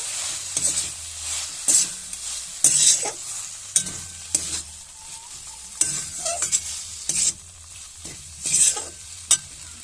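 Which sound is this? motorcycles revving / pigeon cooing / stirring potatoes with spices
stirring potatoes with spices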